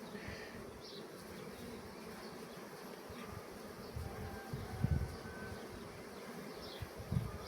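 Honeybees hum steadily at a beehive, with a continuous close buzz and a few louder low bumps and nearby passes toward the end.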